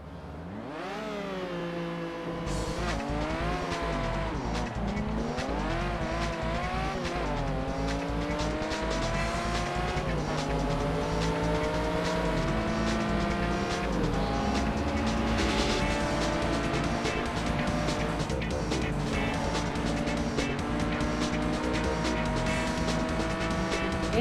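Ferrari race car in the sim game Assetto Corsa, its engine screaming loud and close through rising and falling gear changes over about twenty seconds, with tire squeal mixed in and no talk.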